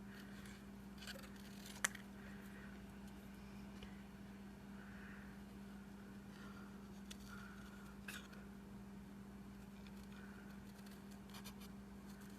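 Metal snips trim around a printed zebra on paper. The cuts are faint, sparse crisp clicks over a quiet, steady low hum, with no talking.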